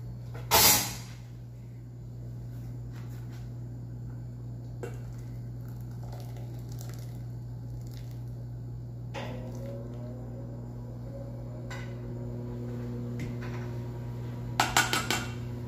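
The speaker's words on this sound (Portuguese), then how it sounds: "Agora eu vou passar pela peneira." Tomatoes for a basil tomato soup are pushed through a metal sieve to remove the skin and seeds, giving faint scraping and clinking of a utensil against the mesh and bowl, with sharper clatters near the start and end over a steady hum.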